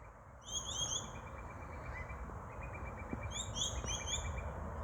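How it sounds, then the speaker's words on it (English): Australian magpies call in the distance near a railway line, their warbling chirps coming in two short bursts over a steady outdoor background rumble. "There's our pack of swooping magpies down there."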